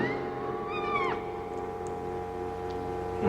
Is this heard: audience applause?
no